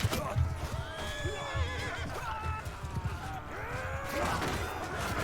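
A horse whinnies loudly as it is struck down in the medieval combat game Mount & Blade II: Bannerlord, with several distressed neighs, hoof clatter and battle noise layered over the action.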